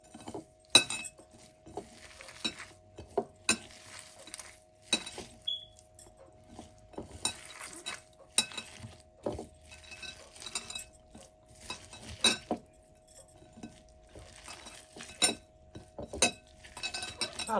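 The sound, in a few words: chilies being hand-mashed in a bowl, clinking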